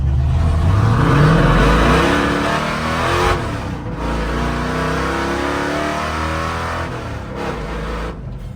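A car pulls hard on a short run, engine roaring loud and close with rising and falling revs through gear changes, a brief dip midway, then sustained pulling roar to the end; no voices.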